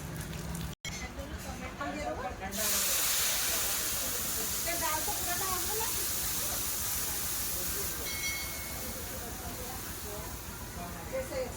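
Mustard oil sizzles as cumin, dried red chilies and bay leaf go in for a dal tempering: a quiet start, then a loud, steady hiss from about two seconds on, with a voice talking over it.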